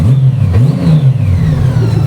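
A Honda Valkyrie 1,863 cc motorcycle engine revs loudly up close, its deep rumble rising and falling through a couple of throttle blips, with no voices.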